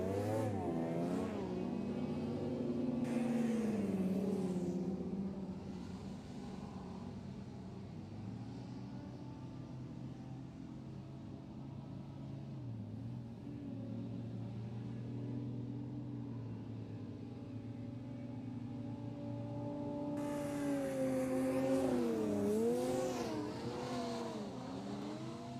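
A race car at a Whittlebury race meeting drones past on track, engine pitch sweeping and shifting as it approaches, runs on steadily, then swells louder again near the end; no speech.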